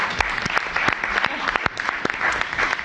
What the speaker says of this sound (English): I just want to give him a round of applause because he's worked really hard.